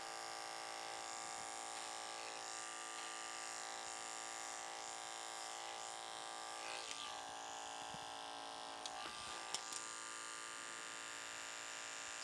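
An electric hair clipper buzzes steadily as it cuts and bevels hair at the nape for a classic pompadour, a close, even hum lasting the whole stretch with no talking.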